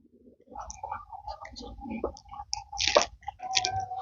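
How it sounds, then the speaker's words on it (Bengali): Pitha batter for dudh pitha is mixed by hand with small additions of hot water, giving close, soft squishing and sticky clicking sounds in irregular bursts, with no talking. "সামান্য পরিমাণে অল্প অল্প করে গরম জল দিয়ে এটাকে মিক্স করতে হবে"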